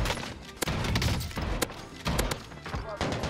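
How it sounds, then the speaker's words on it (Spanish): Several shotgun blasts go off in the video game Warzone, sharp thumping shots in an irregular burst, fairly quiet and mixed with game noise. "Cuatro tiros de escopeta."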